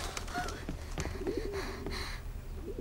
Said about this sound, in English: Ah, 50 pigeons!